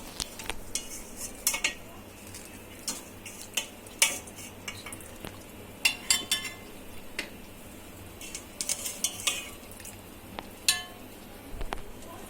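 Cooked chicken is lifted out of a pot of yakhni broth with a metal utensil, bringing repeated scraping clinks and knocks against the pot over a soft simmering hiss, near and steady, with no voices.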